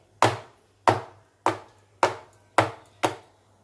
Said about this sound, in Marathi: केकचं बॅटर थोडं टॅप करते